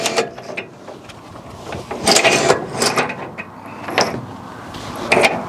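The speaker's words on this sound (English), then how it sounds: "Well, I guess we're respooling a winch." An X-bowl winch on a skid steer is respooled, giving irregular mechanical clicks, ratcheting and clunks. Louder bursts of metallic rattling come in uneven clusters close by, with no speech.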